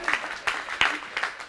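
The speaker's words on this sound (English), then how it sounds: "give me a round of applause" A short burst of audience applause, a few scattered claps in uneven rhythm, fairly faint and brief.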